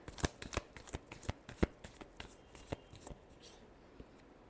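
Tarot cards shuffled by hand up close, giving a quick series of crisp riffling and slapping bursts that fade into a softer rustle at the end, with no talk.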